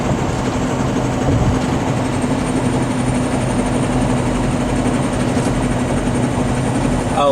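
Ford Powerstroke 6.0 diesel truck driving down the road, a steady low engine drone and road rumble heard from inside the cab, continuous and fairly loud with no talking.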